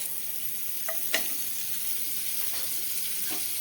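A spoonful of butter melting in hot oil in a kadhai, a soft continuous sizzle with a brief utensil clink near the start and light stirring.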